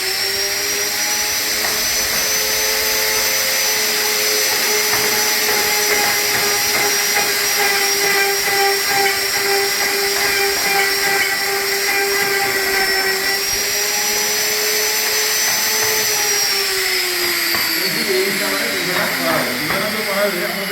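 A router cuts into a wooden door panel with a high, continuous whining scream that holds steady, with slight shifts in pitch as the bit moves through the wood.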